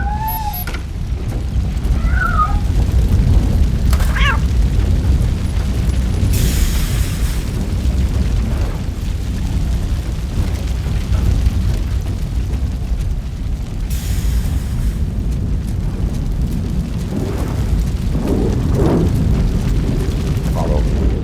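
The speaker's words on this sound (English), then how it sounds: "Fire is blocking the way" In the video game RoboCop: Rogue City, a fire blocking the way gives a loud, continuous roaring rumble that fills the whole stretch, with faint voices and small effects now and then over it.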